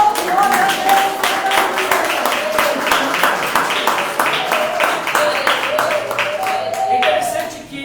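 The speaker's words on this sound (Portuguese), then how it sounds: "Palmas que adoram Jesus nessa noite." A church congregation claps in praise of Jesus during an evening worship service, steady rhythmic clapping from many hands throughout, with voices and sung or spoken tones running over it.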